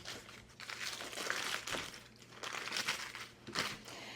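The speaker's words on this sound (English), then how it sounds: "So you just want to unwrap it." Plastic wrap is peeled off a chilled log of pistachio cranberry shortbread cookie dough, giving soft, close crinkling and rustling in several uneven bursts.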